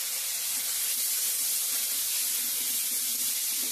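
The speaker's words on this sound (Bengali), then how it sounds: "আলুটা ভেজে নেব।" Potatoes sizzle in hot oil with onion, dried chilli, bay leaf, panch phoron and ginger for a chickpea ghugni curry, a steady close frying hiss that runs unbroken throughout.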